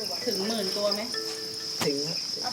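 Steady, dense chirping from crickets on a cricket farm, a continuous high trill from many insects, with a faint voice-like murmur underneath.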